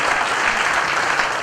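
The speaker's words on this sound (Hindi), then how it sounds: "जिन जिन लोगों को माँ से प्यार था उन्होंने ताली बजाई" A live comedy-show audience breaks into loud, dense applause, a continuous wash of clapping that holds steady for the whole moment.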